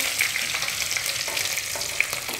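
Garlic frying in a pan for prawn masala, a steady hissing sizzle close up with faint stirring scrapes and a couple of small sharp pops, no talking.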